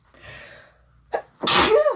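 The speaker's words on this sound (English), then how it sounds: "Oh, I gotta sneeze." A person gives one loud, sharp sneeze at close range, set off by a quick breathy intake just before the burst.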